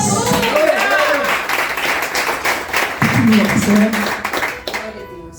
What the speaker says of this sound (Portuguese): Então quem crê aplauda o Senhor